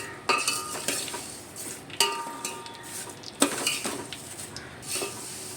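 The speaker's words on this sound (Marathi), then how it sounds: "ही शेव व्यवस्थित हलवून घेणार आहोत." A utensil stirs vermicelli as it roasts in a pan over a low flame, giving repeated scraping and clinking strokes with a faint sizzle, close and moderately loud, with no talking.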